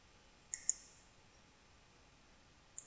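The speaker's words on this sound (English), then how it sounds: "Right click and hit enter" Two sharp computer mouse clicks close together near the start, then a third click after a long quiet pause, crisp and close in a quiet room during AutoCAD LT 2010 drafting work.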